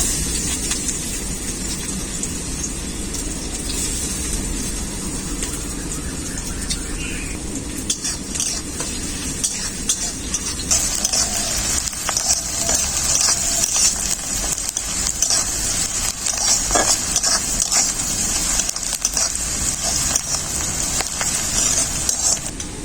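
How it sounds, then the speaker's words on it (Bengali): Chopped onions hitting hot oil in a wok and frying, a steady hiss that swells louder partway through, with occasional spatula scrapes and clinks, close by and without speech. "কুচনো পেঁয়াজগুলো দিয়ে দেব"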